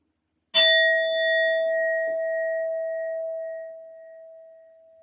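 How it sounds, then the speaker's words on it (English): A sound bowl is struck once and rings out with a clear, sustained metallic tone that slowly fades over several seconds, close and alone. "I will be using my sound bowl to clear and set the energy as always."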